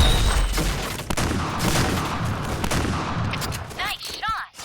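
Point Blank M1887 shotgun blasts in a video game, a rapid string of loud, harsh shots and chaotic gunfire. The burst thins toward the end, where short sweeping electronic tones sound.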